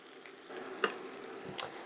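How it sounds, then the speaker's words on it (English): Faint, soft sizzling of cabbage frying in a pan, with a couple of light scraping stirs and no talking. "We're going to keep frying the cabbage."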